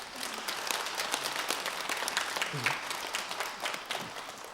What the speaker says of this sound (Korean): 박수 치는 거 보니까